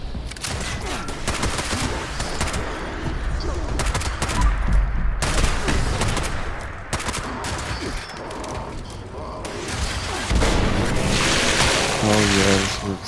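Shotgun and other weapon fire in the video game Fallout 76 comes as dense, repeated loud blasts and bursts over about thirteen seconds, with explosions in the mix and no clear talk.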